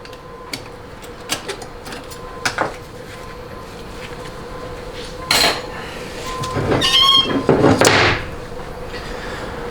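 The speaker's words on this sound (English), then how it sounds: "That's the sound of a very healthy roller one-way clutch assembly." Healthy roller one-way clutch assembly from a Ford AOD transmission being spun by hand in a shop; faint ticks and light metallic clicks, then a louder whirring rattle and scraping near the end over steady background hum.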